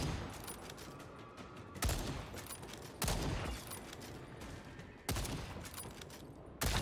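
Sustained automatic gunfire from the Second Extinction video game, rolling in long bursts with sharp, loud restarts every couple of seconds, no voices over it.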